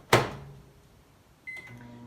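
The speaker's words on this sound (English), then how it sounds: "just pop it back in the microwave. I'm going to do another minute" A microwave oven heats a soft plastic fishing bait mix: a sharp thud of the door closing, a quiet pause, then a beep and a low steady hum as it starts running.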